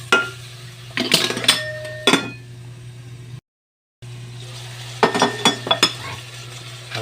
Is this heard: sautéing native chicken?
yes